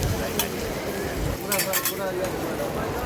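Beef tripe sizzles steadily in hot oil while a ladle stirs and scrapes through it, with occasional metallic clinks against the pan. The frying hiss stays constant throughout.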